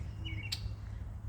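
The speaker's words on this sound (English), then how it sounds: "there are a lot of birds" A single bird gives a brief chirp in a Toronto garden, followed by one sharp tick, heard faintly over a low steady outdoor rumble with no talking.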